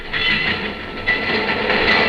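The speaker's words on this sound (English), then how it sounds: "lie low so the train goes past." A train rumbles past in a radio drama sound effect, a loud, steady rolling roar with faint rhythmic clatter and no voices.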